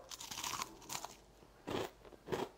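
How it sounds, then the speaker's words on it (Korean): Dried food bitten into with crisp crunches, three distinct crunchy bursts in a quiet indoor setting with no talking. "완전 바삭바삭해."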